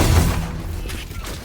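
Gunfire and booming impacts crash through a Valorant-style tactical shooter match in a short, loud, dense burst with a muffled voice underneath.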